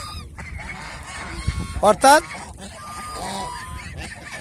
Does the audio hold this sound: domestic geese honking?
yes